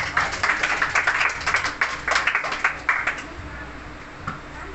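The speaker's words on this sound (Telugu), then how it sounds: "అందరు కూడా చప్పట్లు కొట్టి" Audience at a church meeting clapping to welcome a pastor, a loud, fairly brisk patter of many hands that thins out after a few seconds, with a faint voice underneath.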